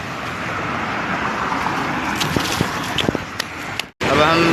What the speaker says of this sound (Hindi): ये देखो गाड़ी बहुत आवाज़ कर रही है।